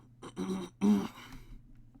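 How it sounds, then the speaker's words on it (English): Someone clears their throat twice nearby, two short rough bursts with a brief pause between them, then quiet. "that was me actually clearing my throat."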